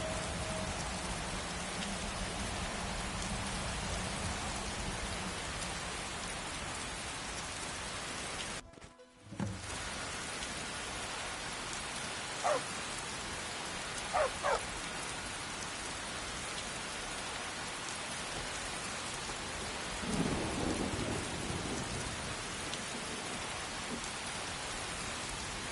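Steady rain falls in the Skyrim video game, a continuous hiss of drops throughout, broken by a brief cutout and a few soft knocks, with a low rumble of distant thunder later on; no one talks.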